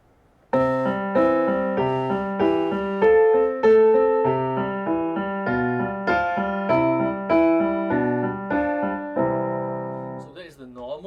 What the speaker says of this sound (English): when we play Twinkle, Twinkle Little Stars, it might sound like this.